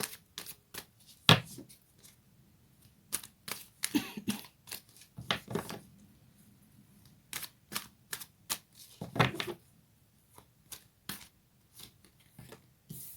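Astrology cards being shuffled and handled up close: a string of crisp, papery riffles and snapping taps in uneven bursts, with no talking.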